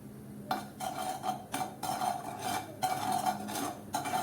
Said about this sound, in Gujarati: મીઠાને પણ આપણે થોડું શેકી લઈએ